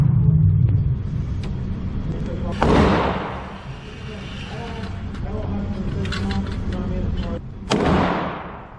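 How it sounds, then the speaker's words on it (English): Glock 45 MOS pistol shots at a right-hand target, a few sharp, loud reports spaced several seconds apart over a steady background rumble. "Shooting right hand side target"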